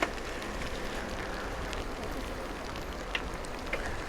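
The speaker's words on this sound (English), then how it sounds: "You see rain in Medjugorje, one of the last days with the rain." Steady rain falling in Medjugorje, a dense even hiss with a few scattered drop ticks, continuous and moderately loud with no voices.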